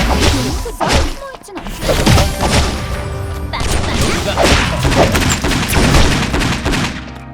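Gunfire in a factory-building video game, a dense, loud barrage of overlapping shots and impacts running almost continuously, with brief voice fragments underneath.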